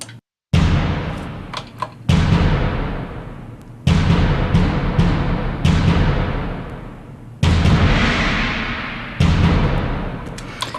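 Deep booming orchestral bass drum hits, six of them, each followed by a long rumbling decay, with faint crashing metallic shimmer of a gong or cymbal over some strokes.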